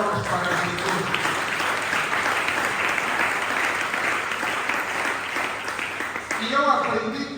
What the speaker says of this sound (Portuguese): uma linda salva de palmas para Jesus